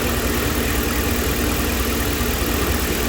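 A 2011 RAM 1500 with a 5.7L Hemi V8 with an injection problem and a shorting cylinder 1 ignition coil idles close by, a steady, loud, even engine rumble with no voices.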